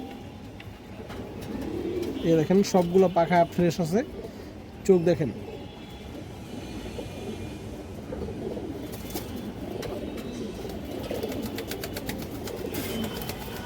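High-flyer pigeons for sale, including red Muslodom, silver, Bagha and Khaki birds, coo softly in short bursts near the start while someone talks almost continuously over them close to the microphone.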